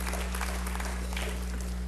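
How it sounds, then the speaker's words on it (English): Graduation audience clapping in a hall, a faint, steady patter of many hands partly buried under a strong low electrical hum. "You should clap."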